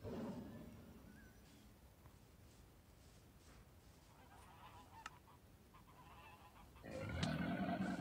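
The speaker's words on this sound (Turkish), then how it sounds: "Kaz bu da arkadaşlar. Uçuyor bunlar." Goose honking from a flying goose in the Minecraft PE Safari mod video game, a few short honks scattered over a quiet background, with a louder burst of honking near the end.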